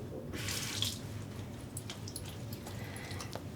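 Tap water runs steadily and softly into a container to be mixed with hair conditioner, a close, quiet splashing stream with no talk.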